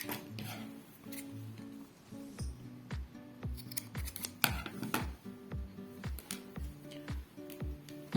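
Scissors snip yarn while a tricotin knitted penguin is being finished, producing repeated crisp clicks and short cuts in an irregular rhythm, close and quiet over faint background hum.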